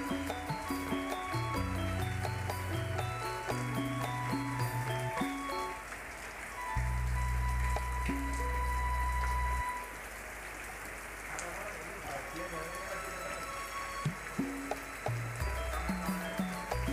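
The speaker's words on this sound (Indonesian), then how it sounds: "Ya pas hujan ini." Rain falls steadily at a homestay with a swimming pool near Malioboro, a continuous patter mixed with tonal background sounds and occasional louder hums.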